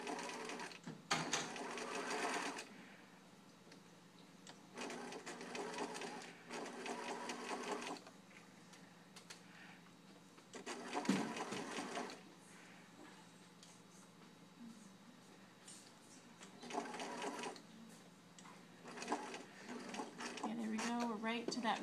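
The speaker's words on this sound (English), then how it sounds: "sew along the other half. Again, we're still back stitching because we're actually sewing" A sewing machine stitching a seam on a yoke skirt runs in several bursts of rapid mechanical whirring, broken by short pauses, while a person talks over it.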